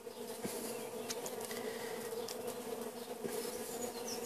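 Honeybees buzzing in a dense, continuous drone at the hive entrance as foragers carry white pollen inside, with faint individual passes flitting close by.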